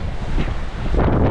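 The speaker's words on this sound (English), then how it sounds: "it is windy, as you can tell." Steady wind roaring and buffeting against the microphone in Alaska, a constant low rumble that gusts louder toward the end.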